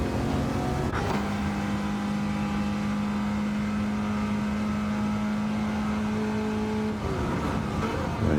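Gran Turismo 7 race car at Bathurst holding a loud, high-revving engine note, a steady sustained whine broken by brief gear-shift dips near the start and end, with no talk.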